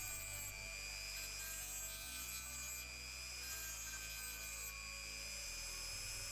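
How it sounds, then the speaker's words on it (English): A small rotary grinder whines steadily while it carefully grinds broken metal from the underside of a 1953 Matchbox dumper bucket, a close, continuous high-pitched whirr with slight shifts in pitch as the load changes. "I have to very carefully grind away the broken bit that's left behind on the underside of the bucket."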